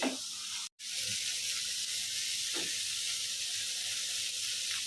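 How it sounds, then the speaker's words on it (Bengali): Chicken being stirred in a pan for cheese pasta, a continuous close hissing sizzle with a brief break near the start and occasional soft scrapes of stirring, no voices. "চিকেন দিয়ে একটু কিছুক্ষণ নেড়ে চেড়ে নিচ্ছি এক দুই মিনিট"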